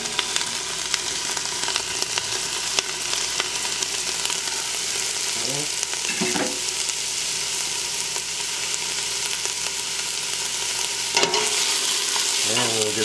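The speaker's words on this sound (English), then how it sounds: "That little sizzle ain't gonna hurt nothing." Onion, celery, bell pepper and poblano pepper sizzle steadily in olive oil for a Creole jambalaya, a continuous broad frying hiss with occasional stirring scrapes and clinks throughout.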